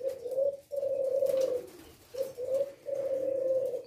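A Leopard Silver spotted dove coos at close range, giving a few clear, mellow, drawn-out phrases with short pauses between them.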